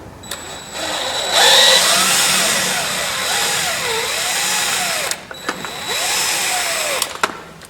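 A power drill drives screws to fasten boards down onto an old homemade trailer, a loud close whirring run that pauses briefly, then resumes with a short second burst.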